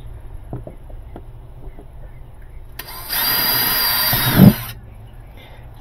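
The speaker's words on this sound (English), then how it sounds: "you want to drill a stop hole that mitigates the cracks from expanding" A power drill whirs steadily for about two seconds amid quieter workshop noise, with a brief knock near the end, drilling a stop hole to keep cracks from spreading in a discarded washing machine.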